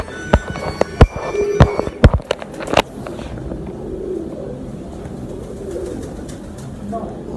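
Breeder pigeons coo and flutter close by, with several sharp clacks and wing-flap bursts early on, followed by a softer, continuous murmur of cooing and low background noise.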